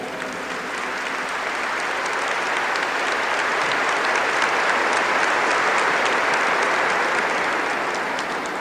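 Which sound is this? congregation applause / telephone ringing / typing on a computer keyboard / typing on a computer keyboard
congregation applause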